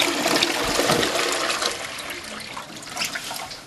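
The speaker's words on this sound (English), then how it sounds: "And it can then be used to flush the toilet." A toilet flushing with recycled greywater gives a loud, continuous rushing and gurgling of water close by, steady for several seconds with no voices.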